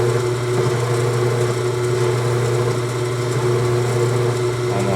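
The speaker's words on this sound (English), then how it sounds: "So my flutes are actually cutting and not the center of the end mill here." End mill flutes cutting metal while opening a pre-drilled hole on a Delta Ammco metal shaper, a steady droning machine whine with a constant hum throughout, close and continuous.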